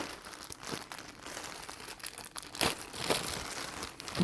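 Thin plastic bags holding flannel shirts crinkle and rustle as they are torn open by hand, a close, continuous crackling with a few sharper tearing bursts.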